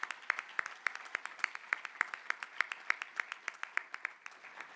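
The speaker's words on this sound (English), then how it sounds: "Please join me in recognizing Gary with a round of applause." An audience at an awards presentation claps in a steady, evenly paced run of crisp hand claps that sounds like a small group, moderately close, with no talk over it.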